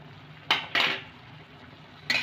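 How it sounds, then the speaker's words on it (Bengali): Chili soya with tomato sauce and vinegar stirred in a pan: three short metallic scrapes and clinks of a spoon against the pan over a quiet background. "সবগুলোকে একটু আমি নেড়ে নিলাম।"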